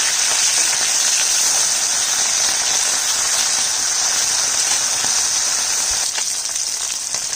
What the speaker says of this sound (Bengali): এক সাইড ভাজা হয়ে গেছে, আরেক সাইড ভাজবো। মাছগুলো উল্টে দিচ্ছি।